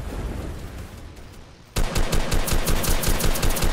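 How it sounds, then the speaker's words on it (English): Rapid automatic gunfire in a Roblox combat game, a brief lull then a sudden loud burst of closely spaced shots continuing steadily to the end. "I'm getting shot at!"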